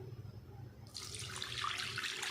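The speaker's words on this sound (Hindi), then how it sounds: "और साथ ही इसमें हम पानी ऐड कर देंगे।" Water splashes from a tap into a pan of besan halwa with sugar and cardamom, starting abruptly partway through and running as a steady, close pour to the end.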